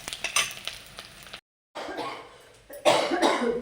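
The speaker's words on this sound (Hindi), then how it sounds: "दीदी की खांसी है ना जो जाने का नाम नहीं ले रही है" Repeated coughing fits from a persistent cough, close and harsh, separated by a brief silence, with faint kitchen clatter and sizzling in the background.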